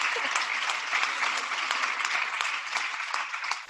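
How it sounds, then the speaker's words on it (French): An audience at a plenary session claps steadily, a dense, even wash of applause held at a constant level throughout. "On peut l'applaudir encore."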